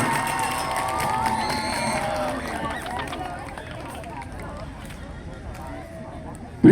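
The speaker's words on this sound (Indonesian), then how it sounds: "Tepuk tangan yang meriah." Crowd at a scout jamboree closing ceremony cheering and clapping steadily, a broad busy roar with shouts that gradually eases toward the end.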